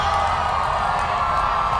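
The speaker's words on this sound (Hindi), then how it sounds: "भरपूर तालियों में इस्तकबाल कीजिए" A dense crowd cheers and whoops continuously at a rally welcoming former Pakistani prime minister Imran Khan at GC University Lahore, loud and close throughout with no clear pauses.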